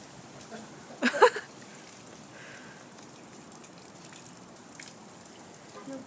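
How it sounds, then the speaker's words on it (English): Light rain patters and rainwater trickles steadily close by from a spout, broken by a brief louder splash early on. "that water falling down out of that spout"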